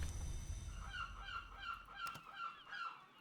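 Seagull-like bird cries from the video game Book of Hours, a run of repeated honking calls in a steady rhythm, fairly clear over a quiet low rumble with one sharp click midway.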